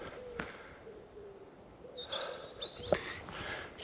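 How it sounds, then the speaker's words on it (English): Birds call at dawn outdoors near a field where deer graze, with scattered chirps and a few hoot-like and cooing notes rising over a soft, quiet background, no voices. "All you can hear are the birds."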